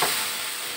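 Ground spice paste, blended with a little oil, frying in hot oil for sayur lodeh, a brief steady close sizzle and hiss with no talking.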